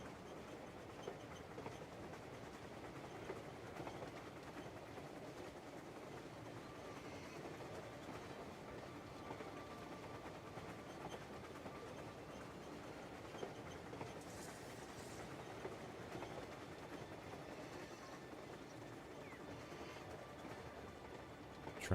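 A train rolls steadily along its rails in the video game Crimson Desert, a continuous rumbling clatter of wheels and carriages that holds an even level throughout with no one speaking.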